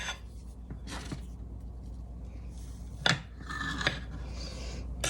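A knife slices through a piece of moist apple cider donut cake, giving a few soft scraping cuts and a sharper scrape near the middle, close and fairly quiet.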